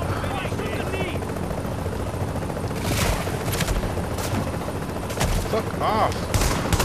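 Rapid bursts of gunfire from The Division's Dark Zone ring out loud and close in a busy firefight, layered over a whirring helicopter-like drone, with a man briefly swearing over the shots.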